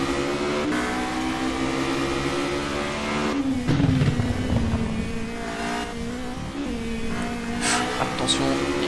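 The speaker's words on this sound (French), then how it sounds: "on vous propose un tour embarqué avec le leader qui vient d'établir son meilleur temps en course" A Formula Renault race car screams through an onboard qualifying lap at the Montreal circuit, its engine note rising and falling steadily through gear changes, close and loud with a commentator talking over it throughout.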